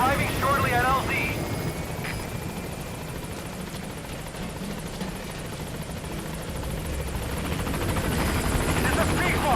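The B-Quad helicopter in Metal Gear Solid V approaches its landing zone, its rotor throbbing loudly and steadily throughout. A radio-style voice talks over the start and end.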